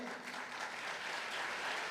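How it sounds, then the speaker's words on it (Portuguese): Church congregation applauding during a sermon, a steady wash of many hands clapping at a moderate, slightly distant level throughout, with no voices standing out. "pode aplaudir"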